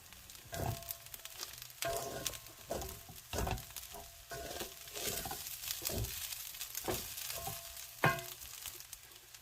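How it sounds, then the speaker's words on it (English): Shrimp tossed into a pan of Jamaican seasoned fried rice with spam and oyster sauce, giving a quiet sizzle with repeated scraping stirs and light clatter, no talking. "now I'm just going to add in the shrimp"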